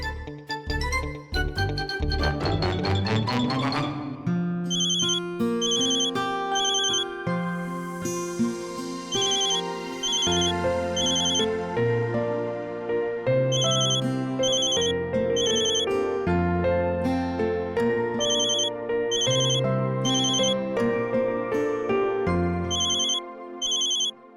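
A phone ringtone plays a looping electronic melody, steady and loud, repeating for a long stretch with no voices.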